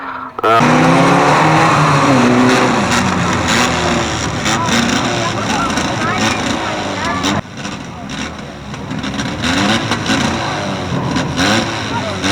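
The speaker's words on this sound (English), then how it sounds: "very quickly away there from the rookie bangers as they set off on a brand new race" Rookie banger race cars at Fleet Raceway pull away together from the start, engines revving loudly and continuously as the pack accelerates off the line, with a commentator talking over the roar.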